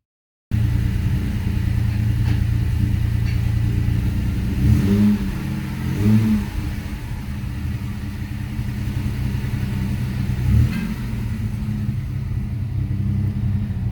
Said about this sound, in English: It's making this like weird rattle noise. It almost sounds like my exhaust is hitting something.